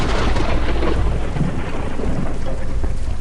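A thunderstorm pours heavy rain in a village forest at night, a loud dense roar of rain with deep rumbling thunder underneath, constant and close, with no voices.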